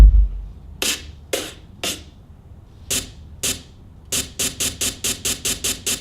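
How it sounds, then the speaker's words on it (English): A processed snare drum sample with its click trimmed off, leaving only the noisy burst, played as short sharp hits: three spaced strikes, a pair, then a quick even run of eight, dry and alone. "All noise, no click."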